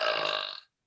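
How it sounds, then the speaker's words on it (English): A young woman lets out a single short burp, close and fairly loud, lasting just over half a second before cutting to silence. "promised that she would give a burp"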